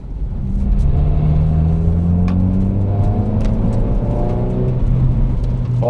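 A 1999 Ford Focus 2.0 16v engine revs steadily and loudly from inside the car, a continuous rising drone with layered harmonics that climbs in pitch and holds for several seconds with no talk.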